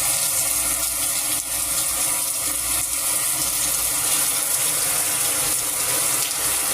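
Rain falling on an outdoor balcony with potted plants, a steady, close, dense hiss of water spattering that continues evenly throughout with no voices.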